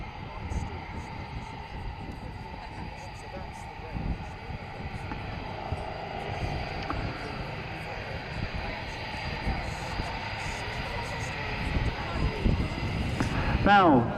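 Piston engines of a Vickers Vimy biplane departing an airfield at Dunsfold, a steady broad drone building slightly toward the end, heard under continuous talk from a commentator.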